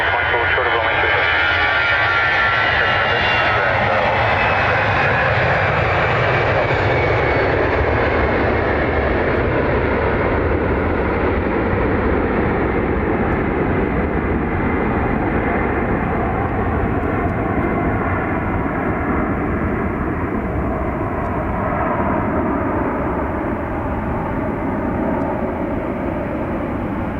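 A plane takes off at Dublin Airport in calm wind, its loud sustained jet roar building and then slowly fading over nearly half a minute.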